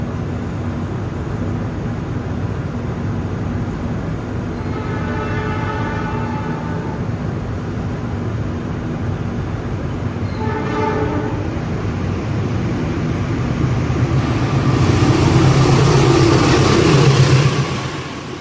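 A passenger train, the Arjuno Express, rumbles past at close range at Wonokromo station in Surabaya, Indonesia, with a steady low roar and brief horn-like tones, the noise swelling toward the end.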